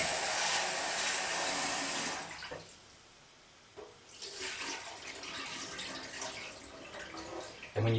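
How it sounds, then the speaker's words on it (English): Water pours into a pot of washed rice for rinsing, starting as a loud rushing stream, dropping away, then returning as softer splashing and sloshing. "washed the rice 3 times, so just need to rinse it off now."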